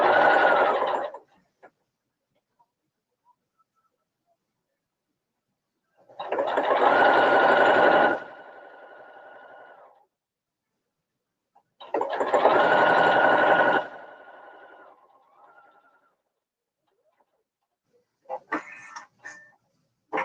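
A sewing machine stitches a clear vinyl child's tote bag in three loud bursts of rapid whirring, each a few seconds long and separated by quiet pauses, with a short rattle of handling near the end.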